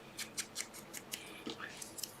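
Scissors snip through stamped paper for a botanical envelope craft, giving a quick run of about ten crisp close cuts at a steady rhythm, with nobody talking.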